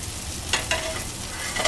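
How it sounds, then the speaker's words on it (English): Rice sizzles steadily in a hot wok while being pressed flat, with a few short scraping stirs cutting through the loud, close frying hiss. "We take our rice into the pan, kind of flatten it out a little."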